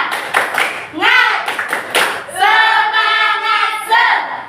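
Schoolchildren in a fifth-grade class perform a rhythmic spirit clapping chant, sharp patterned claps alternating with loud chanted voices in unison, close and energetic.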